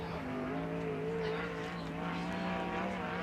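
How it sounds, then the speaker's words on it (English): Sprint cars racing at Attica Raceway Park in Ohio, a steady loud engine drone with sustained tonal whine and harmonics throughout, no pauses, heard from the track side during a qualifying session. "Next two cars to hit the speedway."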